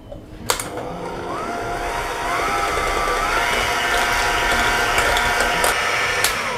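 An electric hand mixer whirs steadily while beating chocolate cake cream, its motor pitch rising and holding as it works, loud and close, with small clicks of the beaters against the bowl and no speech.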